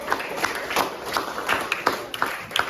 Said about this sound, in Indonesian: Mari saya tepuk tangan bersama kelompok